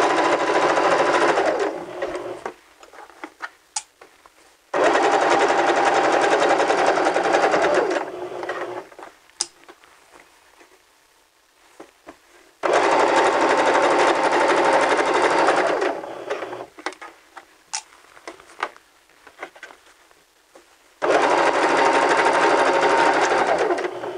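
A sewing machine stitches a garment up to the top neck edge in three long, loud, steady runs, with quieter pauses between them filled with small clicks and handling sounds.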